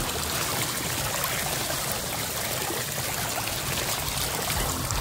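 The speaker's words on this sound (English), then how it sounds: "it is also a water fountain" Water from a fountain built into a pool accent wall with a ledge pours and trickles steadily in a continuous, close, even splashing wash, with no talk over it.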